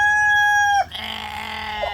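A rooster crows once, loud and close, in a backyard meat-bird coop with a chicken-wire run, the long held call breaking off abruptly and giving way to softer clucking and farmyard noise.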